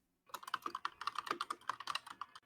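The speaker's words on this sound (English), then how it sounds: "Your typing's not loud enough, Milo." Rapid keyboard typing clicks away close up in a steady, busy patter of keystrokes for about two seconds, fairly quiet, with no talking over it.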